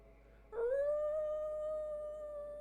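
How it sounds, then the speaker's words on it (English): A single long wolf howl rises sharply and then holds a steady, clear tone. It sounds moderately close and stands alone over a faint low hum. "the howl of wolves"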